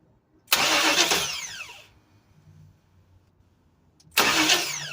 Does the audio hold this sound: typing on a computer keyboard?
no